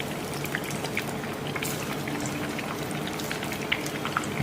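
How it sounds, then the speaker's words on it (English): Egg balls frying in oil, a continuous bubbling sizzle at moderate level with faint crackling pops, steady throughout without talking. "See, the balls is getting fried."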